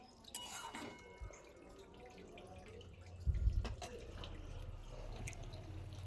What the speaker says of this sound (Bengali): সেই মাছগুলোই এখন ধুয়ে নেওয়া হচ্ছে